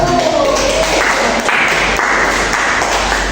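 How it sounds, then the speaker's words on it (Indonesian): Children in a primary school classroom applaud a group, a loud continuous patter of many hands clapping at once, close and dense, with voices mixed faintly underneath. "tepuk tangan buat kelompok 1"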